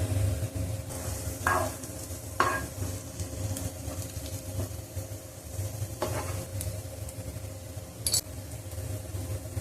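Onions sizzle steadily in a hot pan, with occasional scrapes and clinks of a spoon stirring, close and fairly loud, no talking.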